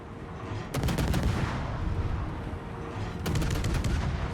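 Warship guns in World of Warships fire in two rapid rattling salvos over a dense, loud rumbling battle background.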